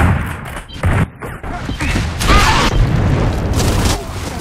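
Gunfire in the Gears of War video game, a burst of booming, crashing shots and thuds mixed with game noise and a voice talking over it.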